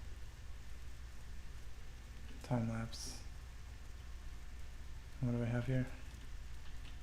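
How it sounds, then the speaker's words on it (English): Steady rain falls in a World of Warcraft game world, a constant soft wash running through the whole stretch, while a person speaks briefly twice over it. "I hope the rain keeps going."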